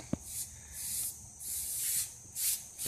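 Bursts of airy spray hiss in a few pulses as a spray gun applies 2K primer to a bare-metal 1964 car, each under a second, close and steady, with a sharp click near the start.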